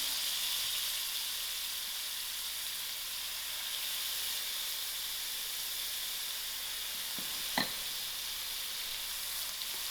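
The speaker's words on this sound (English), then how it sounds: "I'll allow my onions to fry a little." Onions sizzle steadily in hot oil for prawn biryani, with a constant hiss and faint crackle. Near the end comes one brief knock, probably a utensil tapping the pan.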